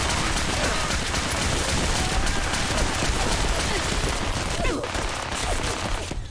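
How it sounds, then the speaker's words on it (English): Sustained rapid enemy gunfire in Fallout 4, loud, dense bursts of shots blending into a continuous barrage that fills the whole stretch without pause. "How is he shooting me through a solid wall?"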